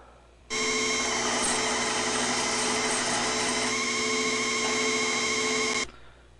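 A metal-cutting machine faces a part held on a gear cutting mandrel in a model-building workshop, giving a steady, loud whine with constant tonal ringing that starts abruptly, holds unchanged for about five seconds, then stops.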